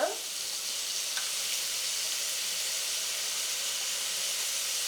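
Vegetables for vegetable biryani sautéing in oil, a continuous even hiss and sizzle, close and steady throughout with a brief stir at the start.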